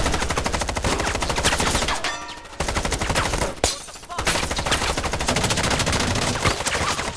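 Sustained, loud automatic gunfire rattles through a sci-fi short film, with rapid bursts broken by two brief pauses.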